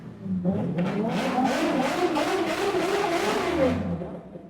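A car engine revs hard nearby, the pitch climbing and wavering through several surges before dropping away, loud and continuous.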